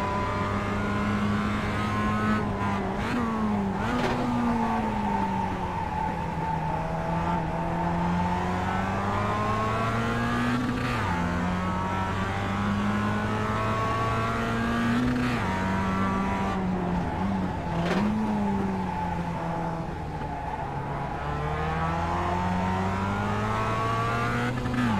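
Mazda MX-5 race cars lap Tsukuba circuit, their engines droning loudly and continuously with rising and falling revs through gear changes and corners, occasional tyre squeal audible, with no one talking.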